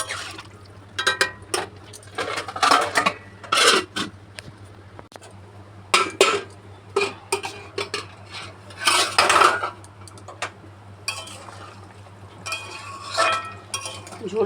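A utensil stirs hilsa fish curry with potatoes and eggplant in a metal pan, giving repeated scraping and clinking bursts up close, with pauses between strokes over a steady low hum.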